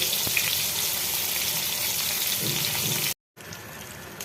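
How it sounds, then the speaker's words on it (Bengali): Eggplant pieces fry in a pan with a steady, close sizzle that runs continuously, cutting out briefly for a moment before resuming. "বেগুনগুলো খুব বেশি ভাজা যাবে না একটু শক্ত শক্ত থাকবে"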